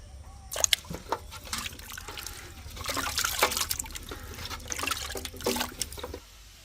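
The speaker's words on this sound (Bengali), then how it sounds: "এবার আবার জল দিয়ে ধুয়ে নেবো ভালো করে" Chicken feet are washed with water, giving close splashing, trickling and dripping that swell and fade in bursts and then stop abruptly.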